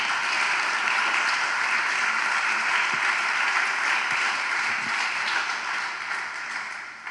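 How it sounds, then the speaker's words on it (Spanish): Sustained applause from a large church congregation, a dense, even wash of clapping that holds steady and eases slightly at the end. "¿Por qué no le da un aplauso al Señor?"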